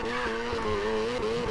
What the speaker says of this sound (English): So you drift around and you like go like right here